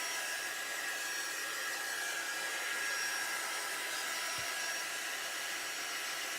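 Hair dryer blowing steadily at close range to quick-dry a primitive Christmas tree craft piece, a constant loud whooshing roar that holds unchanged throughout with no talk.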